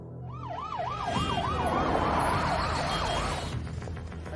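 An ambulance siren wails in a fast up-and-down yelp over loud traffic and crowd noise in a dubbed South Indian film scene, then cuts off abruptly.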